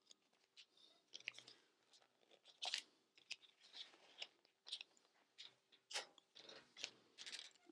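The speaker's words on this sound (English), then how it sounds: "And then I'm going to finish cutting it with these scissors." Sharp scissors cut fabric for a sewn backpack in a quick run of crisp, close snips and rustles with short pauses, quiet and with no talking.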